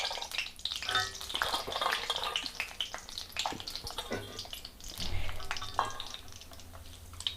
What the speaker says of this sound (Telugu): నేను మీతో మాట్లాడే లోపల బాదం పప్పు తొందరగా ఫ్రై అయిపోయింది.